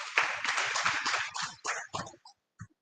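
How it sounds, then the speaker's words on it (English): Audience applause at a cotton farmers' workshop, a dense burst of clapping that thins into a few scattered claps before trailing off. "I am very sure he deserves another round of applause."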